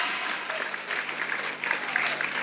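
An audience at a political speech claps, a close, dense burst of applause that holds steady throughout without talk.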